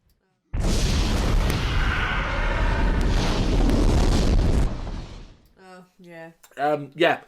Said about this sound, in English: the stupid-ass explosion in the end